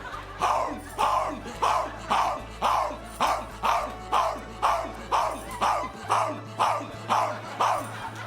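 A dog barks repeatedly in a steady, regular rhythm of about two barks per second, loud and close, with a low steady hum underneath and no talking.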